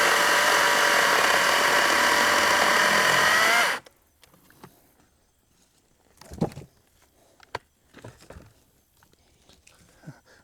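A Wild Badger CSB40U battery-powered chainsaw cuts through wood with a loud, steady, close electric whine for nearly four seconds, then stops abruptly, leaving quiet handling knocks and thuds.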